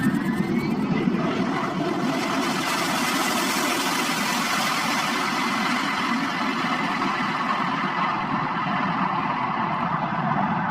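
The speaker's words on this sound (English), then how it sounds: "This meant the plane had to brake as hard as possible." A plane roars through a hard braking run on a short 700-meter runway, a loud, continuous engine and rushing noise holding steady for about ten seconds, alone with no voices.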